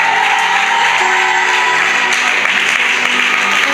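A church conference crowd applauding loudly and continuously, a dense wash of clapping with some cheering that stays steady throughout.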